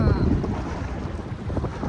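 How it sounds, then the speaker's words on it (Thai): Strong wind buffeting an outdoor microphone by rough seas, a steady loud roaring rumble with gusty swells throughout, no clear speech over it. "ลมแรงมากเลยเนาะ"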